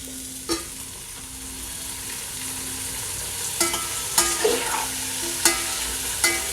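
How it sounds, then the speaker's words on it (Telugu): Tomato rice mixture frying in a pan and stirred steadily, a low sizzle running throughout with a few sharp scraping knocks of the spoon against the pan, close by and with no talking. "ఒక 5 నిమిషాల వరకు ఇలా కలుపుతూ ఉండాలి."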